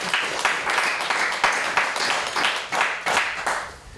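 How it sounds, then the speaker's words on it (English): Council members and attendees at a Newport city council special meeting give a round of applause: several seconds of brisk, close hand clapping with uneven bursts that swell and ease, and only faint voices beneath. "So maybe a round of applause would be appropriate there as well."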